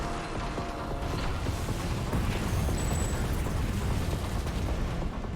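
Enemy destroyed in an Armored Core VI arena fight: a dense, sustained rumble of explosion and grinding mechanical debris, loud and steady across the whole stretch with no break, carrying no voices.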